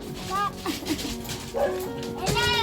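Several dogs yip and bark in short bursts, fairly close, with people talking in the background.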